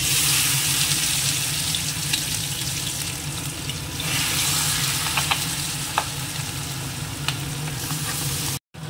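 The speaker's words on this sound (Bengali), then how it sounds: "তেলটা আর ঘিটা তো গরম হয়ে গেছে, এবার একটা করে পিস এর মধ্যে দিয়ে একটু আগে লাল করে ফ্রাই করে নিতে হবে।" Pieces of meat fry in hot oil and ghee with a loud, steady, close sizzle, broken by occasional pops and crackles before stopping abruptly at the end.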